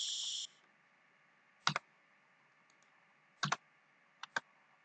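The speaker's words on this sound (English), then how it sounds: "I'm going to click edit and nothing happens." Computer mouse clicks in a quiet room: a short burst of noise at the start, then sharp, close clicks in pairs spaced a couple of seconds apart, with nobody talking.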